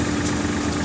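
A tractor engine holds steady RPM while driving a mustard thresher through the 540 PTO, a constant loud mechanical drone with no break and no voices.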